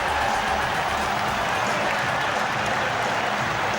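Stadium crowd at Ibrox roaring and applauding after a Rangers goal, a dense continuous wash of cheering and clapping filling the whole stretch at steady loudness.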